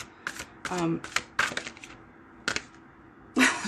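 Crisp papery snaps and riffles of oracle cards drawn from a deck, a few short bursts close by, with brief pauses between and a louder flick at the end.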